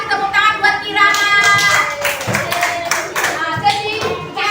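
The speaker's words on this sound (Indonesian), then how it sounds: "Kita kasih tepuk tangan buat Kirana." Elementary school classroom children clapping hands together, a lively mix of many small claps with overlapping children's and a teacher's voices throughout.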